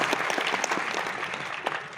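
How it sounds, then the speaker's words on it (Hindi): An audience at a Hindi poetry gathering applauds continuously, a dense patter of many hands clapping at steady volume for the whole moment. "तालियां बजनी चाहिए इस पंक्ति पर।"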